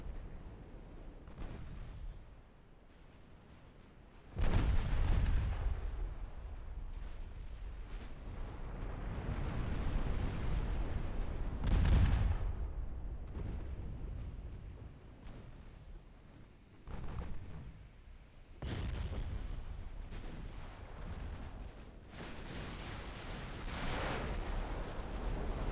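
Battleship main guns firing in the naval game Ultimate Admiral Dreadnoughts, 1913 French campaign: several deep, rumbling booms spaced seconds apart, each with a long rolling tail over a low background.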